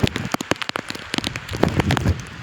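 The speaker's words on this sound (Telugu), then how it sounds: "వర్షం చాలా పడుతుంది" Heavy rain pours down steadily, a dense hiss dotted with sharp close drops and patters, no voices.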